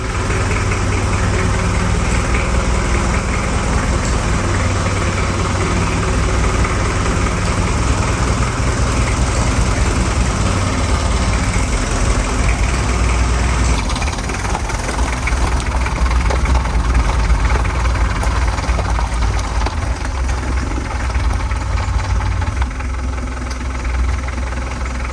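Daihatsu Fourtrak 4x4 engine idling after a full restoration and fuel bleeding, a steady, close, even diesel-like rumble with a slight knock running unbroken throughout with no talking.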